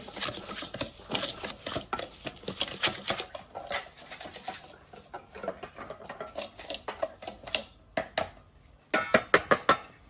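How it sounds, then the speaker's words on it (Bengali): A spoon works through batter with baking powder in a bowl, giving quick irregular clinks and taps against the bowl that grow sharper and louder toward the end, with no talking. "তারপরে এটা ভালো করে আমি মিক্স করে নিচ্ছি"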